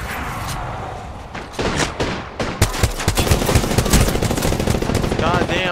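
Rapid video game gunfire crackles in close bursts, building from scattered shots into dense automatic fire with booming impacts, loud and continuous toward the end.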